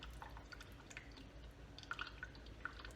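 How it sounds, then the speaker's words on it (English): Water drains through bark potting medium with some sphagnum moss around a lady's slipper orchid (Paphiopedilum), giving faint, scattered drips over a quiet background with a few sharper drops near the end. "wet the medium, and let the water drain out"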